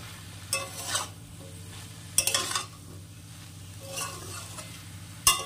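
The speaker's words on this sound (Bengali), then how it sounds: "এসে এখন ঢাকনা খুলে সবজিটাকে এভাবে একটু নেড়ে চেড়ে দিতে হবে।" Bottle gourd greens being stirred in a pan: several short scraping strokes of a spatula against metal over a low continuous sizzle, nearby and moderately quiet.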